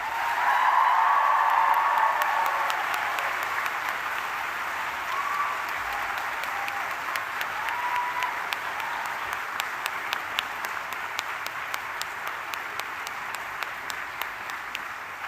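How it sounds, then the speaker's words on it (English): A large audience in a hall at a graduation ceremony gives sustained applause that is loudest at the start, then settles into steady clapping with individual claps standing out until it thins toward the end. "So huge round of applause and a cheer for all your friends, supporters, family, and staff"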